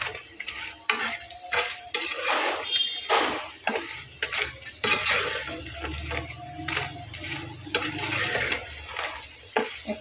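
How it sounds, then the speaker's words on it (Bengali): Potato pakoras sizzle in hot oil in a pan while a utensil stirs them, with repeated scraping strokes and bubbling crackle close by, no talking. "তো এখন সেজন্য নেড়ে চেড়ে একবারে ভেজে নেব"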